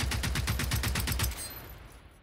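Rapid automatic gunfire rattles in the game Generation Zero, about a dozen evenly spaced shots in a quick burst that then stops, leaving a fading tail.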